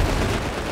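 A brief, dense burst of gunfire crackles loudly in the game GTA 5, sharp and close with a rumbling tail.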